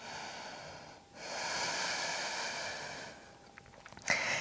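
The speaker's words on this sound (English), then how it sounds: "Inhale, exhale." Slow, steady breaths are drawn during a yoga forward fold, one long soft exhalation close to the listener, followed by quieter breathing and a brief sharper sniff, with no talking.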